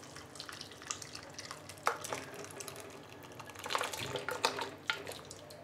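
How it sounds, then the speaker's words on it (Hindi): Mutton paya with its soup pours into a pot in the kitchen, faint wet splashing and dripping with a few louder slops, steady and close, with no talking. "हम इसमें पाया डाल देंगे उसके सूप के साथ।"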